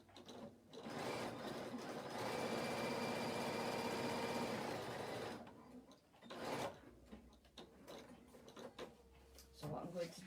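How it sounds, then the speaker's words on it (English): A sewing machine stitches a denim skirt in one steady, loud mechanical run of about five seconds, followed by short whirring bursts and clicks as the fabric is adjusted. "I presume I'm stitching down to the pivot line."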